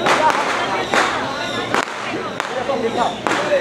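Several sharp firecracker bangs go off at irregular intervals, some near and some farther away, with people chatting in the background, in northern Taiwan at New Year.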